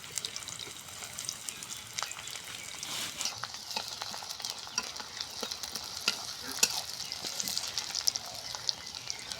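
Whole garlic cloves and chopped onion frying in oil in a pan: a constant close sizzle with bright crackles and occasional stirring scrapes, steady throughout, with no talk.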